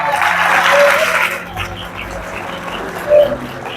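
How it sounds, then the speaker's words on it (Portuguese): A church congregation applauding in a worship service, steady clapping that fills the first second and a half, then fades into a quieter room with scattered sounds. "Aplauda o Senhor por isso."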